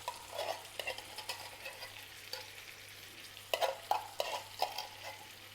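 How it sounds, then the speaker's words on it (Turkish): Garlic frying in butter in a pan, a steady close sizzle under occasional spoon stirs and clinks against the pan, with sharper crackles toward the end. "Şimdi bu da tereyağında pişecek iyice kavrulana kadar."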